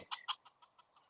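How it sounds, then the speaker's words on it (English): A small, slightly beat-up rooster gives a short quiet series of clucks, two sharper notes followed by softer fading ones, close by with no talking. "We'll say hi to our little rooster who got a little beat up, but he's doing all right this morning."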